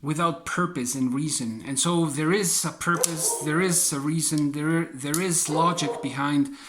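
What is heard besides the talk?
None of the usual background noises is heard.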